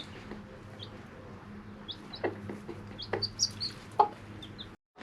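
Hungry hens and chickens in a henhouse give off scattered soft clucks and brief higher calls over a low steady background, with a few sharper peeps standing out near the end.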